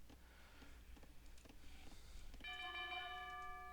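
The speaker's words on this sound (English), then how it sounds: "And we ring the town bell." A town bell rings out in an Age of Empires match, entering partway through as a sustained, sharply pitched chime over low game ambience and faint clicks.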